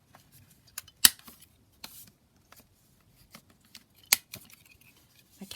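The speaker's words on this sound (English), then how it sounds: "Just trim down the edges, you know, corner around the edges." Scissors trimming the edges and corners of a handmade paper journal, a few sharp isolated snips separated by pauses, with faint rustling of paper between cuts, close and quiet.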